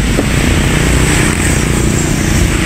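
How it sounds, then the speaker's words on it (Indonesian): A motorcycle engine roars steadily and loudly close by, a continuous rough drone with no pauses. "Ini motor."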